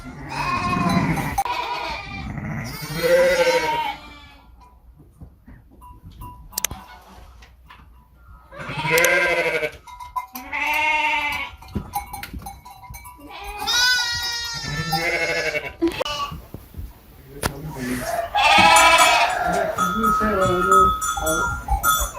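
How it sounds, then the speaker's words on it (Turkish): Merino cross ewe, mother of five lambs, bleating repeatedly at close range on a farm, loud drawn-out calls separated by short pauses with some quieter barnyard noise between. "Arkadaşlar 5 tane kuzu doğuran koyunumuz bu arkadaş. Kendisi merinos kırması."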